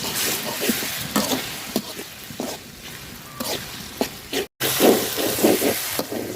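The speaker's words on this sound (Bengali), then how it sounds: "মশলাটা আমি খুব সুন্দর করে ভাজা নিচ্ছি" Ginger and garlic paste frying for a braised beef tongue dish, giving a steady hiss and sizzle with repeated stirring scrapes, close and fairly loud, with a brief drop out near the end.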